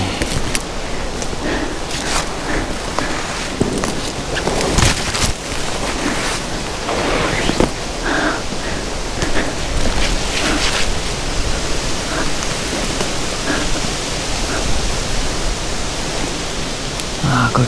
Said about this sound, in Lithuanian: Vėjas gan didelis.